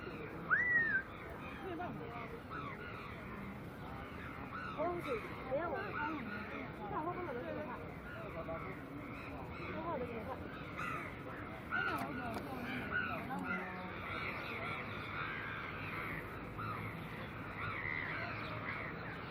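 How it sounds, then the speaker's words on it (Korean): Crows caw repeatedly and noisily nearby at Inya Lake in Yangon, Myanmar, over an outdoor background, while a person talks intermittently. "풍경은 좋은데 너무 까마귀들이 너무 시끄럽네"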